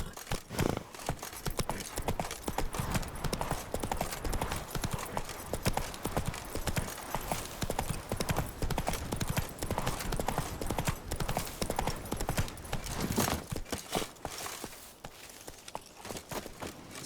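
Roach the horse from The Witcher 3 galloping, a fast, steady run of hoofbeats close by that holds up for most of the stretch before thinning into a few scattered steps near the end.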